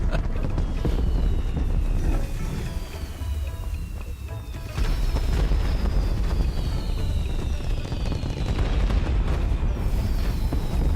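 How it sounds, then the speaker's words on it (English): Fireworks burst in a video game as a continuous barrage of loud booms and crackles, with rising whistles streaking between the blasts and no talking. "They sound good, honestly. They're good looking fireworks"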